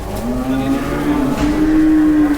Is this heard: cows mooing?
yes